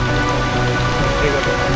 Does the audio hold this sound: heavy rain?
yes